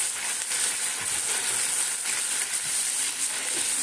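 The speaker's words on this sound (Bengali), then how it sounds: "হালকা নাড়িয়ে নেব কিন্তু।" Food frying and being stirred lightly in a pan, a steady soft hiss and sizzle with faint scraping, close and continuous, no talking.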